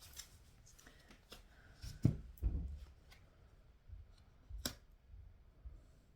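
Tarot cards shuffled by hand in a quiet room, with soft papery riffles and taps, a few louder flicks and bumps standing out from a faint, close rustle.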